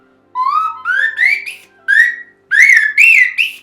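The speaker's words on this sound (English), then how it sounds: "that next whistle up, it's gonna have enough diameter breadth to give some mellow quality to those grosbeak sounds" A Lamy birdsong whistle plays a grosbeak-like call in a series of six clear, rising, warbled phrases, close and loud, with short pauses between them and no talking.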